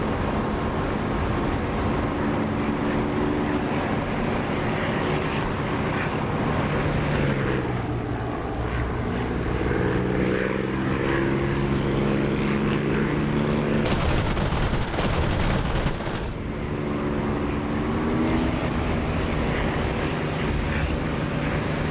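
Refueling tanker aircraft in the DCS flight simulator, a steady loud engine drone running throughout with shifting harmonic tones and a brighter, harsher burst partway through, no voices.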